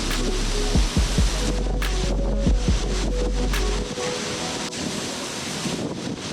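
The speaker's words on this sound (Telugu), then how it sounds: "చాలా పెద్ద వాటర్ ఫాల్ ఇది," Large Kalu Waterfall in Maharashtra roaring with a steady, heavy rush of water, buffeted by gusty wind on the microphone and a deep low rumble that fades slightly partway through; no one speaks.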